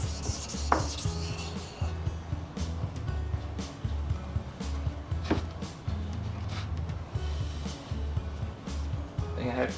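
A blade is worked against a sharpening surface in a workshop, giving repeated close rasping strokes in an irregular rhythm with occasional sharper scrapes, under intermittent quiet talk.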